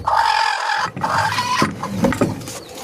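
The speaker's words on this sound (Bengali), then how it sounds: "আমি আপনাদের আমার দুটো দেশি মুরগি দেখাচ্ছি।" Desi hens and a rooster in a backyard coop cluck and squawk close by in a busy, overlapping run of calls, with no talking.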